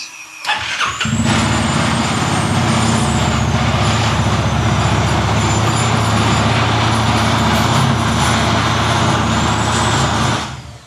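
A Vespa GTS 310 scooter fitted with an Arrow exhaust starts up and settles into a loud, steady idle that runs close by for about ten seconds.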